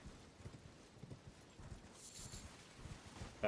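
A horse walks along in a video game, its hooves making a soft, steady clip-clop that stays faint and distant, with no talking over it.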